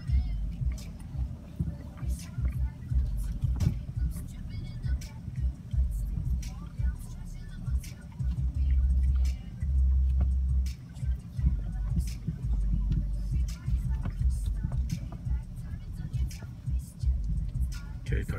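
A truck rolls slowly across a farm with a kid at the wheel, its low engine rumble swelling and easing at close range while voices speak over it and occasional knocks and clicks cut through.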